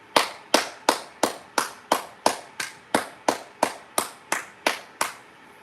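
A single person's hands clap about fourteen times at a steady, even pace, each crisp clap close and distinct against a quiet background.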